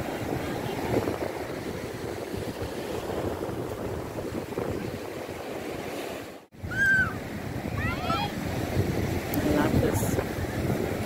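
Surf rolls steadily at Mnandi Beach, a continuous wash of waves mixed with buffeting wind on the microphone, with a brief dropout partway through and a few faint high chirps afterward.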